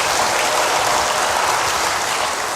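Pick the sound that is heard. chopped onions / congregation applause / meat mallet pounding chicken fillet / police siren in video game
congregation applause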